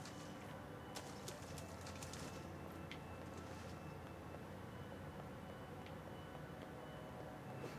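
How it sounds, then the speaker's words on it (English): Birds coo softly in Nier Replicant, faint and distant over a steady ambient hum, with a few scattered chirps and no talking. "Is it the birds up here?"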